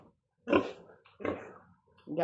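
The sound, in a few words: pig grunting on a farm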